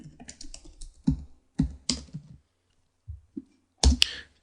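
Keys clatter on a computer keyboard in short bursts of quick clicks, with a few louder isolated keystrokes and brief pauses between them, close and clear with no talking.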